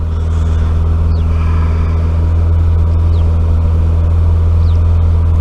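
An Austin Maxi car engine idles steadily on E5 petrol, a close, continuous low rumble with a strong even hum and a slight irregular beat, with no talk over it.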